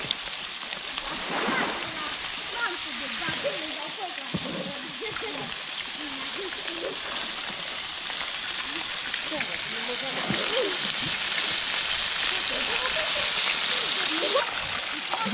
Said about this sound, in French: là on va faire une petite friture, on a tout trempé dans la farine